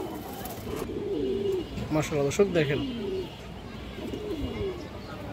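A large pair of Indian Chini Kaldom pigeons coo in a cluster of rising, wavering calls, fairly close, while someone speaks over them.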